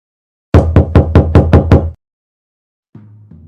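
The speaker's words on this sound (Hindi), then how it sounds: "उसने दरवाजा खटखटाया, लेकिन किसी ने भी दरवाजा नहीं खोला।" Six sharp knocks on a wooden door in quick, even succession, loud and close, followed after a pause by two softer, duller taps.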